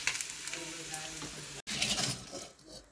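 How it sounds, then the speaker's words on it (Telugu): Chicken pieces deep fry in a kadai, making a close, dense crackling sizzle of hot oil with light stirring clinks and a short break partway through. "చూడండి చికెన్ ఇలా డీప్ ఫ్రై చేసుకున్నాం కదా"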